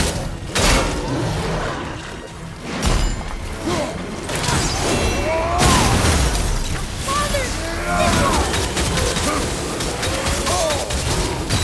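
Cannon fire in the video game God of War, with heavy booming blasts and crashing impacts over continuous battle noise and rumble.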